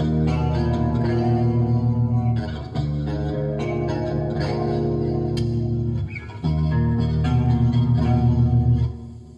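Clean electric guitar tone from a guitarist's signature amp pack, ringing chords with reverb and echo playing loud and steady, with brief breaks around the third and sixth seconds.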